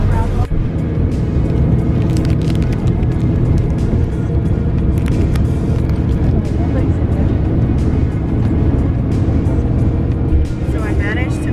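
The inside of a moving bus gives off a steady, loud engine and road rumble that runs unbroken throughout, with faint voices in the background.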